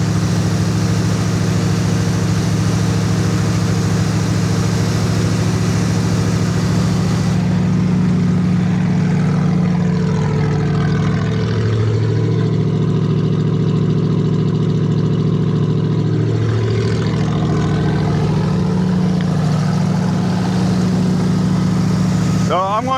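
International Scout engine running on a Harley carburetor after sitting unused for about 15 years: a steady, loud low idle with a few slight swells in speed, heard close up and alone.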